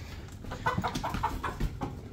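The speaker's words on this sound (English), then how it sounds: "There's a chicken trapped in the top of my barn." A chicken trapped in the top of a barn clucks in a quick series of short, choppy calls, close by and moderately quiet.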